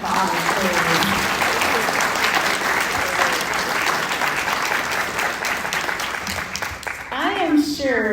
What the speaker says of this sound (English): So give these guys a round of applause, please.